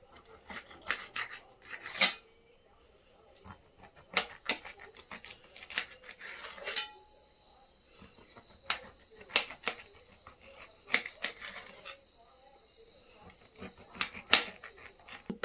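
A knife cuts a pineapple into a diamond pattern, producing sharp, crisp slicing crunches at irregular intervals, close up with quiet gaps between the cuts.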